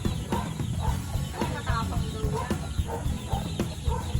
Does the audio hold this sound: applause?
no